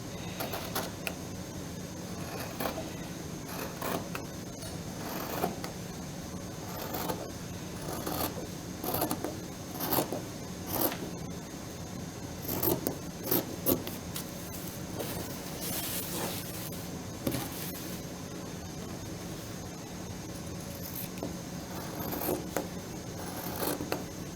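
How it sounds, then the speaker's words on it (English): Scissors make repeated crisp snipping and slicing sounds through cloth, with rustling handling noise and a steady background hiss, with no one speaking. "get your fabric scissors only to cut them out"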